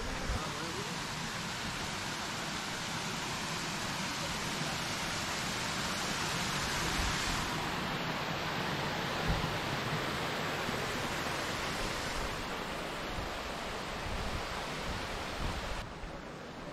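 Steady broadband rush of the Tanti stream flowing over stones and natural pools at a riverside bathing spot in Córdoba, continuous and fairly loud throughout with no voices.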